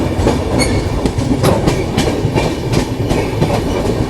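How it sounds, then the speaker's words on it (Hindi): Patna Howrah Janshatabdi train running steadily on rails through a gentle curve, with a continuous loud rumble and a rhythmic clickety-clack of wheels over rail joints close by. "और अपनी ट्रेन ने हल्का सा कर्व लिया भाई"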